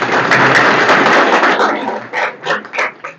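An audience at a motivational camp prize announcement bursts into loud, dense clapping that fades into a few scattered, separate claps.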